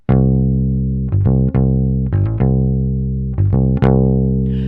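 A bass guitar plays a bouncy groove of sustained low notes with quick pickups between them, loud and clean with no other instruments.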